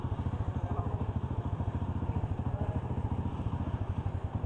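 A motorcycle engine idles steadily after refueling with a full tank, a low rhythmic putter with faint clatter, fairly quiet and close, running alone without talk.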